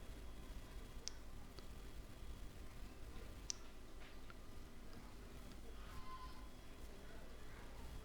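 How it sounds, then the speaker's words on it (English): A computer mouse gives a couple of faint, sharp clicks, one near the start and another a few seconds later, over a low steady room hum. "I'm going to click on the try free for 7 days."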